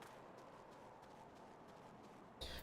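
Horse hooves clip-clopping steadily in the video game Final Fantasy XIV, a quiet, even rhythm of footfalls under a soft ambient bed, with a brighter burst near the end.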